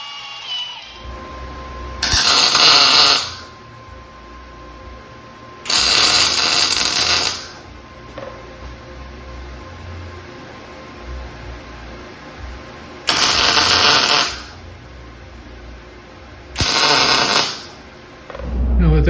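Tack welds are struck on a steel weld cart being built from a tool chest, four separate loud crackling bursts of a second or so each, spaced apart with quiet hum between them.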